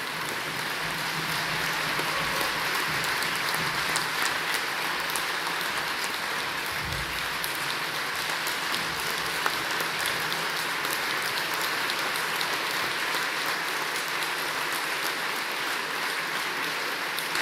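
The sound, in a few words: audience applause for the speakers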